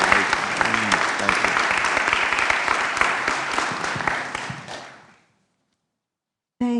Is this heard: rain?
no